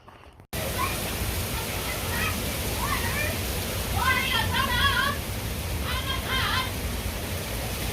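A heavy rainstorm pours steadily as a loud, dense hiss close to the microphone, and a voice talks faintly under the downpour partway through.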